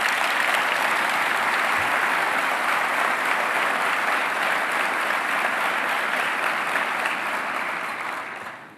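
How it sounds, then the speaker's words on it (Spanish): Sustained audience applause at a presidential speech at ExpoEFI, a broad, even roar of clapping from a large crowd that carries for about eight seconds before fading at the close. "Vaya si no se merece un aplauso este señor Toto Caputo."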